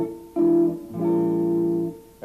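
Jazz guitar playing a chord change from the 1 chord to the 4 chord, two clean sustained chords struck in turn, close and moderately loud, with no talk.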